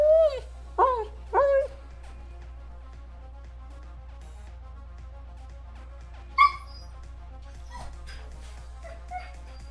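Dogs give a few loud barks and yips in quick succession near the start, then a lone sharp bark later, over a steady low hum.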